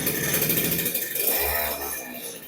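Kawasaki TD40 grass cutter engine running steadily close by, a loud continuous buzzing drone with a brief low rumble midway, no speech over it.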